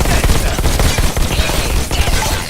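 Rapid bursts of shotgun blasts from a rebel robot in the Robo Recall VR game, dense repeated booming shots layered over constant loud combat noise, no pauses.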